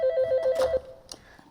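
A telephone rings at a school with a call from the police, a quick repeating electronic trill for under a second and then it stops, with faint clicks afterward.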